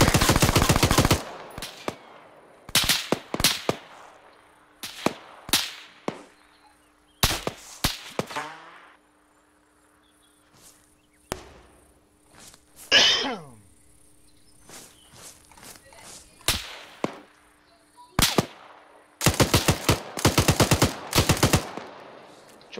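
Machine gun and rifle fire in Arma 3, loud bursts of automatic fire and single cracks separated by quiet gaps, with insects chirping and a faint hum in the background.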